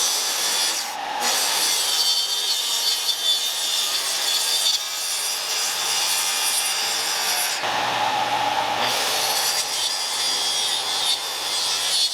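A hand saw cuts steadily through a long piece of wood for a live edge mantle, a close, rhythmic rasping of back-and-forth strokes that briefly pauses and resumes.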